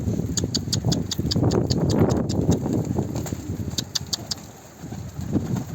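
A male çapar pigeon, a ringed breed bird, calls and moves amid a dense patter of soft thumps and flutters, with repeated sharp ticks above, fairly close and steady throughout.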